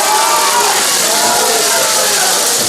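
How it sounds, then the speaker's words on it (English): A crowd at a wrestling match roars and cheers in a loud, continuous wash of many voices that fills the whole arena. "the crowd's starting to get a little bit more animated"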